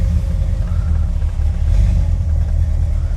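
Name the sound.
car engine idling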